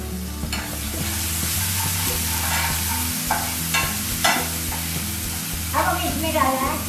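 Ginger and green chili paste sizzles loudly in hot oil in an Indian home kitchen, with a steady fry hiss and repeated scrapes and clatters of a spoon stirring the pan.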